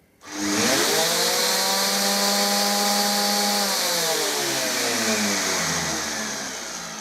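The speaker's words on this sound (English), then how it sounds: "when you turn the sander on, the vac kicks in as well" A random orbit sander switches on and a Nilfisk Aero 26 wet-dry vacuum kicks in with it. The motor whine starts abruptly, holds steady for a few seconds, then sags lower in pitch toward the end. Nobody speaks.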